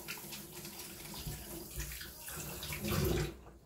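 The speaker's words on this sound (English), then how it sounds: "Let me wash my hands." Hands being washed under a running tap in a kitchen during cake frosting, a steady broadband water rush continuing throughout with a louder splashy swell near the end before it cuts off.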